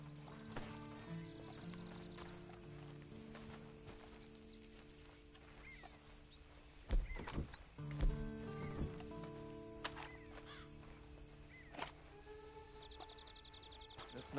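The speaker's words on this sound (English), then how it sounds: "Then you better get on this horse." Horse hooves clip-clop unevenly over a quiet ambient bed in a video game, with a few louder thumps and faint animal calls.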